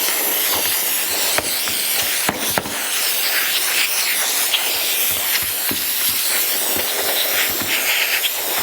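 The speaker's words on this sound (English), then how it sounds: "we'll give it one more rinse down with brake clean" Brake cleaner sprayed to rinse a power steering pump for a 1982 Jeep CJ7, a loud, close, continuous hiss with a few brief clicks and knocks.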